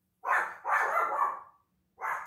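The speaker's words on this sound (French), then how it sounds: "Oh, mon chien est en colère." A dog barks angrily indoors, close and loud: two sustained, harsh bursts, then a third shorter one after a brief pause.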